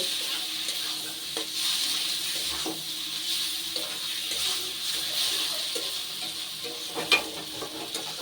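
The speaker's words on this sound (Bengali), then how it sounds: "এবারে এই গুঁড়ো মশলা দিয়ে কিন্তু খুব ভালোভাবে তেলটাকে খালি বারবার নেড়ে নেড়ে একটু ভেজে নেব।" Fish fat being stirred and fried in oil with ground spices including cumin powder, a steady close sizzle with scraping and stirring through the whole stretch and one sharper clack near the end.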